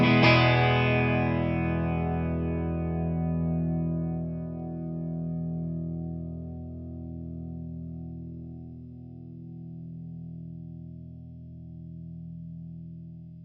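Electric guitar on a USA Fender fitted with a steel or aluminum neck plate sounds one clean chord that rings and slowly decays over many seconds, its tone fading gradually with no talk.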